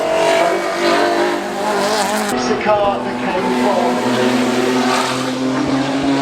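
A Mercedes 190 and a BMW M3 run the Goodwood Festival of Speed hillclimb, with engine noise and revving held loud throughout beneath continuous commentary and crowd sound.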